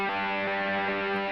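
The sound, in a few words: electric guitar on bridge pickup with added distortion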